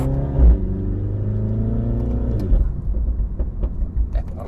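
A Mini John Cooper Works with 231 hp and a PRO sport exhaust revs up with a rising harmonic engine whine, then drops off with exhaust pops and crackles on the overrun, loud and close.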